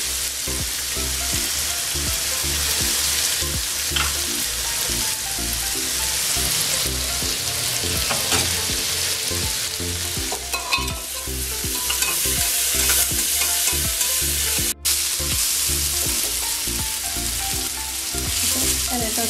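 Tomato and onion sautéing in a pan for Kerala-style homemade chicken biryani, a loud continuous sizzle with frequent scraping stirs and a low steady hum beneath, with no talk.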